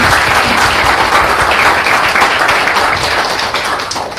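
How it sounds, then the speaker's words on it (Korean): A crowd claps in dense, sustained applause, loud and continuous, tapering slightly toward the end. "우리 큰 박수 좀 부탁드립니다."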